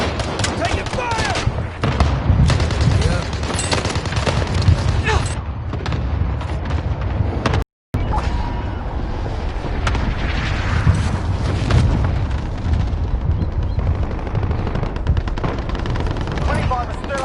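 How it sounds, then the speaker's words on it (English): Dense, near-continuous gunfire and explosions in a Warzone quads match, loud rapid bursts and booms throughout, with players talking over the shooting. "Taking fire!"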